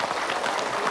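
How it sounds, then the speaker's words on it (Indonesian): A studio audience at an Islamic religious talk show applauds as a preacher is called up, a short, dense burst of clapping with no talking over it. "tepuk tangan"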